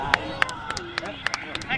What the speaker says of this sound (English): People are still clapping